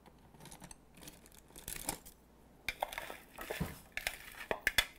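Marinated shrimp tossed with a pinch of five-spice powder, giving soft crinkly, wet mixing and scraping sounds with scattered light clinks against the bowl, growing busier and louder toward the end.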